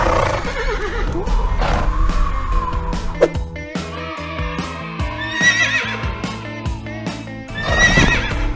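A horse whinnies loudly several times between steady clip-clopping hooves, set in a Wild West cowboy scene with no talking.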